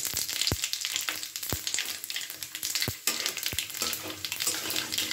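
Dry red chilli, bay leaves and panch phoron crackling in hot oil in a kadai, a steady broadband sizzle with several sharp pops and spits scattered throughout, fairly close and alone without talk.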